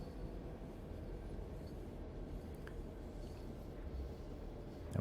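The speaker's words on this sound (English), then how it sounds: "So if you're stopping a train, throttle back to 0." A Santa Fe F7 diesel locomotive in the Train Sim World 3 game slows to a stop with the throttle at zero, giving a quiet, steady low rumble of rolling wheels and engine throughout.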